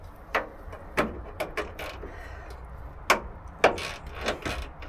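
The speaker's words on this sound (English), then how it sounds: "this ratchet screwdriver is awful" A ratchet screwdriver works small screws on a Rover P6 front end, giving scattered sharp clicks and slipping scrapes in uneven bursts, close and fairly quiet.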